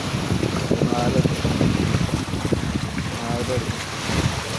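Large waves wash over water beside a damaged flood-control structure in Tibaguin, a continuous rough churning under heavy wind buffeting on the microphone, with a boat-like low rumble throughout.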